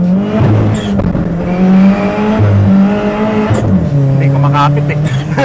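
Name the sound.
Toyota Corolla 3SGTE revving, tires spinning without grip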